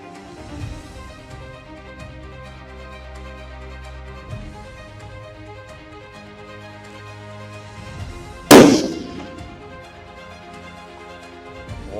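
A single sharp rifle shot fired at blesbuck on a free-range hunt in KwaZulu-Natal, South Africa, cracking out loud and close after a stretch of quiet outdoor ambience.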